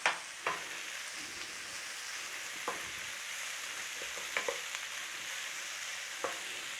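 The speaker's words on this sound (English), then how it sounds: "I'm going to just give that a little stir fry for a minute" Spinach stalks stir-fried in a pan, a steady soft sizzle running throughout with a few sharp clicks and taps of a utensil against the pan.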